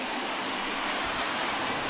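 Steady rain falls on a baseball field in MLB The Show 21, a broad, even hiss of drops that stays constant and fairly soft throughout with no voices over it.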